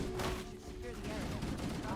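Gunfire from the video game Halo: Combat Evolved crackles as a dense burst of rapid shots, mixed with game sounds and overlapped by people talking throughout.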